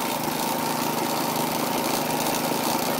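A power auger's engine running steadily while digging a water well into sand, a loud continuous droning motor close by with no pauses.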